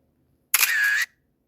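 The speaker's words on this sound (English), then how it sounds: "Camera sound effect." A single crisp camera shutter click followed by a short whirring wind, about half a second long, loud and isolated against silence.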